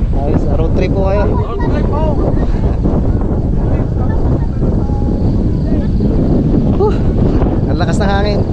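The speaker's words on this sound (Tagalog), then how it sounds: "Ang lakas ng hangin." Strong gusty wind buffets the microphone atop Mt. Gulugod Baboy in Mabini, Batangas, a loud continuous roar with rumbling bursts, while people talk over it.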